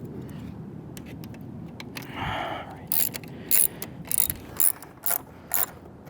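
A ratchet wrench tightens a part on a 2007 Honda 919 motorcycle, giving short, close bursts of clicking ratchet strokes that repeat in a quick irregular rhythm after a low mechanical rumble.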